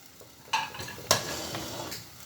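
Courgette and onions get stirred in a cooking pot over lowered heat, with a few distinct scraping clinks of a utensil against the pan over a soft, steady sizzle.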